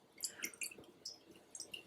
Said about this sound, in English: Give another smash, because I can still hear it drippy drip.